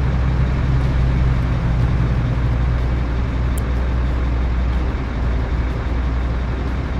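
In Euro Truck Simulator, a truck engine drones low and heavy as it strains to pull, a loud, steady rumble that holds without a break.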